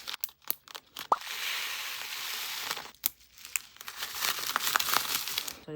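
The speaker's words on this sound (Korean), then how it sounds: "소리라 내기 좀 애매한 것들을 작은 지퍼백에 넣어가지고 만지는 맛도 있고 소리도 나게" A small plastic zipper bag filled with colorful dice and soap-bubble-style parts being squeezed and handled up close, giving bursts of crinkling plastic with rattling clicks, heard alone with brief pauses.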